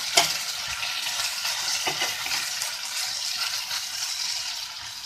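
Bread slices sizzle steadily in a thin layer of oil in a pan, a continuous bright frying hiss with a couple of soft clicks near the start, close and fairly loud with no talking.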